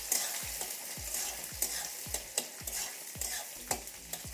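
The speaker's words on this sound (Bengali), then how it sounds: "পেঁয়াজটা একটু ভেজে নিই।" Three small finely chopped onions frying in a pan, a soft sizzle broken by regular spatula scrapes about every half second, with no talking.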